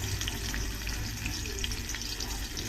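Spices and crushed garlic sizzle steadily in about three spoons of hot oil in a pan on the stove, a loud continuous frying crackle with no pauses and no voices.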